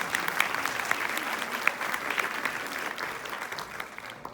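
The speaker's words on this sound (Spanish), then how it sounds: "un aplauso, por favor." An audience claps at a spoken-word event, a full sustained round of applause with crisp individual claps audible in the dense crowd sound, holding steady for several seconds.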